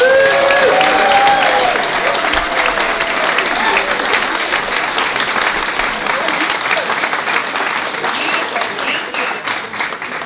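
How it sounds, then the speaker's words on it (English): Outdoor crowd applauding the Reading Community Singers at a rainy community menorah lighting in Reading, Massachusetts, a sustained, even wash of clapping with some cheering mixed in, fading slightly toward the end. "Can we get another round of applause for the Reading Community Singers?"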